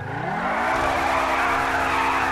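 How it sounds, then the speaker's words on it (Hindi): In GTA 5, a Lamborghini Sian's engine revs up in a rising whine and then holds a loud, steady high-pitched roar as the tires skid and squeal continuously, with no talk. "इंजन की पावर की ये टेस्टिंग कर लेता हूँ मैं।"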